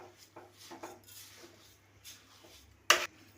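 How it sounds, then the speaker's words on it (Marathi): A spoon scrapes and rubs softly through carrot halwa with sugar in a pot on the gas stove, in uneven quiet strokes, followed by one sharp metallic clank near the end. "इथे बघा मी साखर सगळी हलवून घेतलेली आहे याच्यामध्ये"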